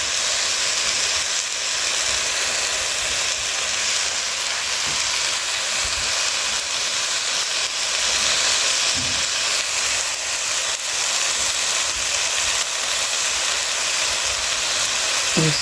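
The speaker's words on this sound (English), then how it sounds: "You don't stop stirring because you don't want the cabbage to burn." Sautéed cabbage sizzling loudly in a hot pan while being stirred nonstop, a dense steady hiss with a few soft scraping knocks, close and continuous with no talking.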